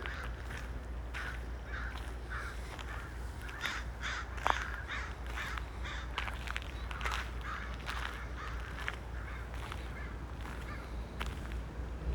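Crows in a Japanese garden caw repeatedly in harsh, irregular calls, some overlapping, against a steady low rumble of wind or distant noise.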